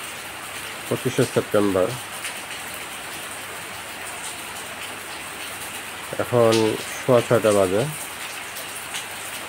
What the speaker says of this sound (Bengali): তারপরেও টিপটিপ করে বৃষ্টি হচ্ছে